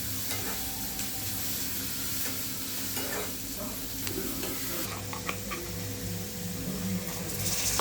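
Onions frying in a pan give a continuous, close sizzle, with frequent scraping stirs over the steady crackle that runs throughout.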